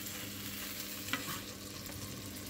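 Butter melting in a frying pan gives a quiet, steady sizzle close by, broken by a single faint clink midway; no one speaks.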